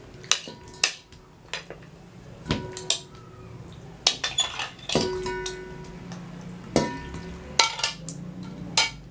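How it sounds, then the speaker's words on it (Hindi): Chicken pieces dropped into a metal pan in a home kitchen, producing a series of close clinks, knocks and clatters spaced irregularly, with faint ringing after several hits and no talking. "इसमें हम सबसे पहले चिकन को डालेंगे।"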